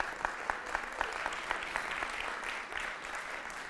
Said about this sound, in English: so applause for Megan